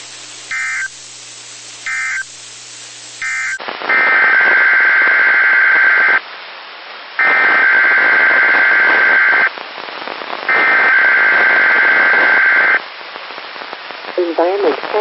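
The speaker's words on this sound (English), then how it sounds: "The following tones will conclude this test." Weekly emergency alert broadcast test ending with tones: three short bursts of data-style noise, then three long, loud, steady attention tones separated by brief gaps.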